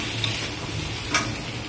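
Pumpkin curry with shrimp fries in oil, giving a soft, constant sizzle, with a brief stirring scrape near the middle, close and quiet with no voices.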